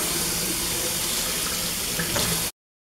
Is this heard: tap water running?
yes